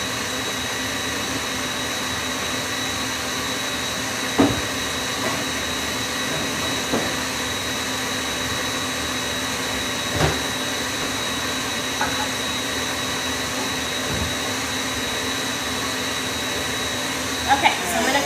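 Electric mixer with a whisk whipping cream at top speed for chocolate mousse, a steady loud whirring drone held throughout with a few faint clicks and knocks.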